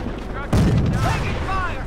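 A sudden loud burst of gunfire in the strategy game Company of Heroes, rattling bursts and a boom after a short quieter lead-in, with battlefield noise continuing.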